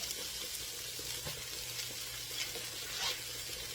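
Baby bok choy sizzles in a hot pan with drunken noodles and red pepper, a soft, steady frying hiss broken by a few light stirring scrapes, close and fairly quiet with no voices.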